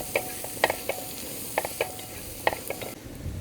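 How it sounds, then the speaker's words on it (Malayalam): Chopped shallots and green chillies sautéed in a pan for beef curry, a faint sizzle under scattered light clicks and scrapes of stirring, quiet and close. "ഇനി അതിലേക്ക് അരിഞ്ഞു വെച്ചിരിക്കുന്ന ചെറിയ ഉള്ളി 300 ഗ്രാം, ഒരു 6 പച്ചമുളക് കേട്ടോ, അതിട്ട് നമുക്ക് നന്നായിട്ടൊന്ന് വഴറ്റി കൊടുക്കാം"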